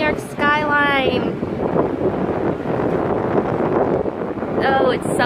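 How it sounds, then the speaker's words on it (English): Strong wind buffets the microphone on the deck of a Carnival Sunshine cruise ship sailing away from New York, a loud steady roar throughout with someone talking over it. "Hopefully you can hear me. It's really windy."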